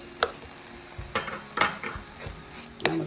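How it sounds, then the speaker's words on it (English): A utensil scrapes and clinks against a pan while ground hamburger meat is stirred around for a quiche, giving several close metallic knocks and scrapes at an uneven pace. "And we're gonna stir that around really good."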